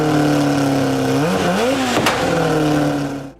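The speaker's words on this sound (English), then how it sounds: "had an incredible sounding, fire-breathing turbocharged engine" A turbocharged Toleman Formula One car engine revs loud and close, holding a steady high note, then dipping and climbing through quick throttle changes before settling again.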